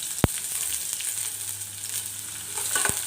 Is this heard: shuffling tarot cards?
no